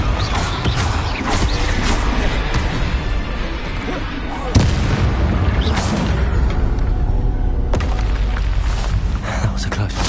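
Confringo fire spell blasts in Hogwarts Legacy combat, loud dense booming bursts and crackling impacts over continuous rumbling battle noise, with a sharp heavy hit midway.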